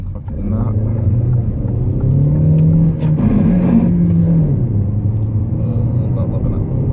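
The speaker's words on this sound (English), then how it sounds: "It gets a little bit lethargic trying to accelerate anything quicker than that." Cabin sound of a 2018 Hyundai Tucson 1.6 GDI with manual gearbox accelerating, a steady loud engine drone and road rumble that rises and shifts in pitch, with a person talking over it.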